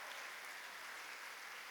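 An audience applauds, a steady dense wash of clapping hands with no breaks, fairly even in loudness throughout.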